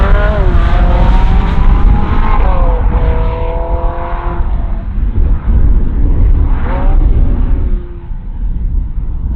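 A yellow Ferrari 458 Spider's engine revs up and down through several loud gear changes while driving, its rising and falling tone close and strong, with road noise underneath.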